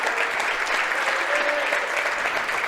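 Steady crowd applause in a gym during a girls' high school basketball game as a player checks out, continuous clapping with a faint whistle-like tone briefly audible.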